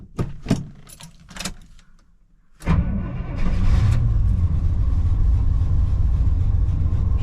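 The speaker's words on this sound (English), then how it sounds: "Cold, so it should come up and idle. She's warming up." A 1994 Chevy Silverado with an LS engine swap cranks over cold after a few pedal pumps, catches and settles into a loud, steady idle, preceded by a few sharp metallic clicks.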